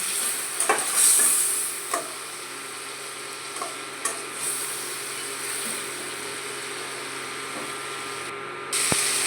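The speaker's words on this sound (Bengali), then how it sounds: "জিরের গুঁড়ো, কাঁচা লঙ্কা, এই দিয়ে আবার কষিয়ে নিচ্ছি।" Cumin powder and green chilies sauté in a pan with a soft, even sizzle and a few sharp scrapes and taps from stirring, close but moderate, with no talk.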